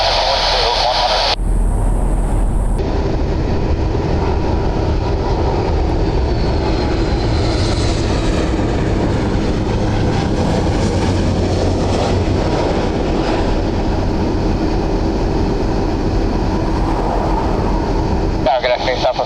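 A jet airliner on short final into Orlando International Airport, a loud, steady broadband roar sustained across nearly twenty seconds with a brief louder burst early on, and some voices in the background.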